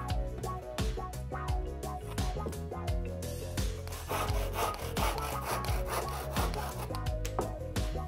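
A hand saw cuts through wood to trim a tenon joint, rapid rhythmic back-and-forth strokes close and clear, running without pause throughout.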